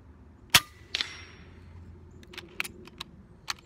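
FX Impact .30 PCP airgun firing outdoors: one sharp, fairly loud shot followed by a quieter crack, then faint clicks and metallic handling sounds.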